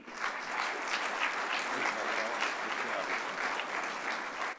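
A large crowd at a UMass Boston celebration applauds steadily to welcome the university president, a dense, continuous wash of clapping at an even level from start to finish.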